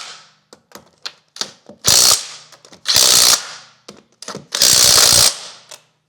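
A hand ratchet clicks in quick bursts, then makes three longer loud runs while tightening bolts on the front driveaxle of a BMW iX. The clicking is close and clear, with no talk.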